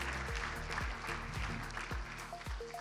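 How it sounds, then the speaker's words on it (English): Applause from an audience at a tech summit, fairly light and steady, with a few sharper claps and low murmuring voices running underneath. "Give them a round of applause, please."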